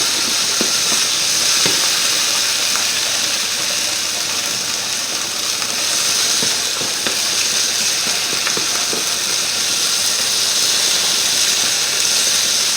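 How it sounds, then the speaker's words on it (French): Apple slices and blood sausages sizzle steadily in hot oil in a pan while being stirred, a constant close frying hiss with occasional soft scrapes and no talking. "On va rajouter juste un peu d'huile pour pas que ça attrape. Voilà. Et on remue."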